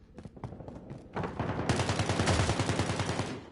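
Video game gunfire: a few sharp single shots at first, then loud, continuous rapid automatic fire that keeps going to the end, with no talk.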